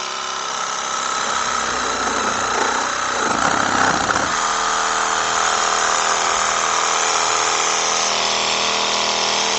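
A reciprocating saw running at its third speed setting and cutting, giving a loud, continuous buzzing drone with a rougher, rattling burst of cutting vibration partway through, alone without talk.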